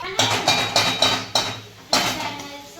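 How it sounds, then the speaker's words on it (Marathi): A small metal lid set onto a pan of cooking tomatoes for shev bhaji, giving a series of sharp ringing metallic clinks that settle and repeat at an uneven rhythm, close and fairly loud. "त्यासाठी आपण एक छोटीशी झाकणी त्यावर ठेवूया"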